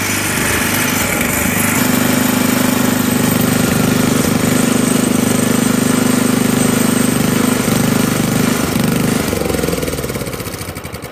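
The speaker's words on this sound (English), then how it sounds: "Going to try and engage the threshing mechanism." A Swanson plot thresher powered by an 8 horsepower motor in rough running condition makes a loud, continuous engine drone with a harsh rattle. It holds steady throughout and fades slightly at the end, with no voices.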